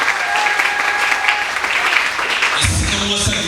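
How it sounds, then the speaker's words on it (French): Church congregation applauding loudly and steadily throughout, with cheering and a preacher's voice rising near the end. "Acclamons très fort ici"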